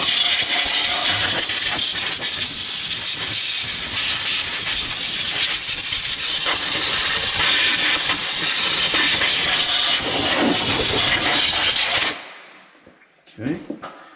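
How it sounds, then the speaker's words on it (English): Compressed air blasting dust and dirt off an exposed Duramax diesel engine during a water pump replacement: a loud, steady rushing hiss that runs unbroken for about twelve seconds, then cuts off abruptly, leaving faint scattered handling noises. "I like to go ahead and blow any dust or dirt or anything off so it doesn't get knocked in there"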